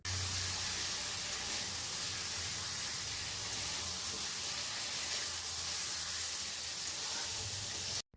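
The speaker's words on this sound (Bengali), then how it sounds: "চিকেনটা বেশ ভালো মতো ভাজা হয়ে গেছে" Chicken pieces frying dhaba style in a pan, giving a steady, loud hiss and sizzle that runs unbroken throughout with no talk.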